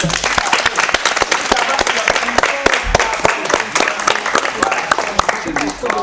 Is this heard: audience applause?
yes